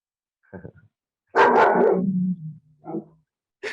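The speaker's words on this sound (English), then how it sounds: "sorry about the dog." A dog barks during a meeting: a few small yips, then a loud burst of barking and a brief softer bark. Nobody speaks.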